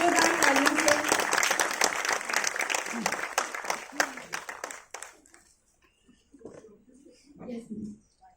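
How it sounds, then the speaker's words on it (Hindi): An audience at a storytelling event applauds loudly for about five seconds, dense clapping that thins out and stops, followed by quiet murmured voices. "प्लीज जोरदार तालियों से।"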